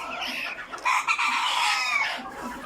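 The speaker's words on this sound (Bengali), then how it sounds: "এই যে আমাদের মুরগিগুলা" Egyptian Fayoumi chickens about two months old cluck and crow close by, a steady flock chatter with a few louder calls rising through it, no talking.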